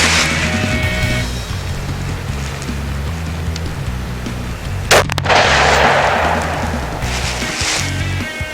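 Rifle shots on a 100-yard range from an LMT upper fitted with a Wilson barrel, loud sharp reports over steady outdoor background noise, with one especially prominent crack near the middle.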